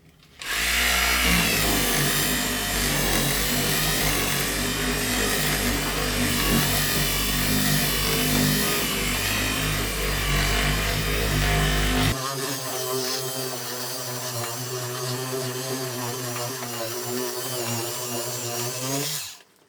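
A buffer with a microfiber waxing bonnet polishes dried wax off a surface, giving a loud, steady machine drone that continues for a long stretch and drops in tone partway through.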